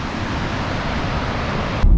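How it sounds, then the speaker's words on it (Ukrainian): Powerful waterfall in Iceland rushing with a steady, dense roar of falling water, loud and continuous with no talk, ending in a brief louder burst. "наскільки велика тут сила природи і наскільки сильна ця течія водоспаду"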